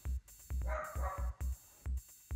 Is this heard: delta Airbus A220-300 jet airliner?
no